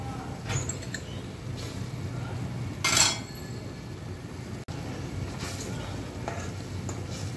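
Fried koi fish tipped back into a pan of simmering kalia gravy seasoned with cumin powder, giving a brief clattering splash around the middle over a steady low sizzle and a few faint utensil clinks.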